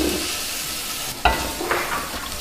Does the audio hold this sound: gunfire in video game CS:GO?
no